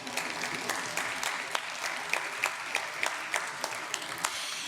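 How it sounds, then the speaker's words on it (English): An audience at a ceremony applauds for a cellist, giving steady, moderately distant clapping with crisp individual claps standing out. The applause runs evenly throughout, with no speech over it. "Yes, you may applaud."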